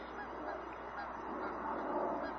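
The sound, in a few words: goose honking while flying by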